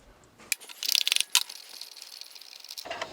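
A ratchet wrench loosens the bottom bolt on a 295cc Robin EH-29C engine in an EZGO TXT golf cart, giving a quick run of sharp close clicks followed by a faint metallic rattle.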